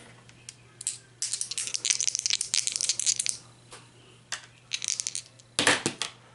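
Two dice clatter and rattle across a tabletop during a Walking Dead board game, bursts of rapid clicking rolls with brief pauses between them, near and crisp, no talk.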